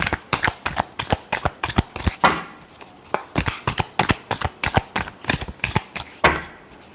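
Tarot cards shuffled by hand in a rapid run of crisp, papery riffles and slaps, about two dozen close, loud bursts in a steady rhythm with a brief pause near the middle.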